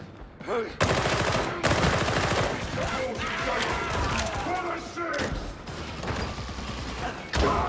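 Heavy gunfire rattles in dense, sustained bursts during a firefight in the Warhammer 40k Darktide video game, loud and close, with thuds and mechanical clatter and voices under the shooting.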